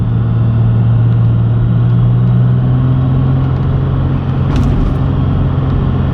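Ram EcoDiesel pickup truck dropping from sixth to fourth gear on a hill, a steady loud diesel drone with a low engine hum that shifts pitch partway through, heard from inside the cab with no talking.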